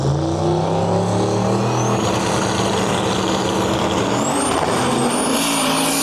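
A Volvo racing truck roars loudly past at a drag strip event, the engine droning steadily and rising in pitch through the gears, with a sustained whine over heavy, continuous rumble and crowd noise.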